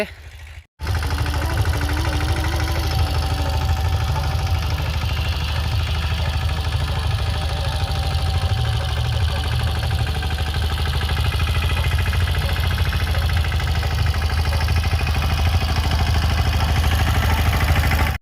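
A Mahindra Yuvraj 215 tractor engine running steadily in a farm field, a loud, even mid-pitched chug with clattering texture that holds constant after a brief dropout at the very start, with no voices over it.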